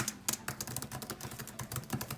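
Typing on a Microsoft Surface Pro Signature Type Cover keyboard in Poppy Red gives a quick, irregular run of light, clicky keystrokes, faint and close, with no voices.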